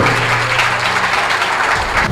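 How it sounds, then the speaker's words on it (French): A crowd at the end of a school match in Yamoussoukro claps steadily in a dense wash of applause, loud and continuous throughout, with no distinct voices. "On peut applaudir les deux équipes."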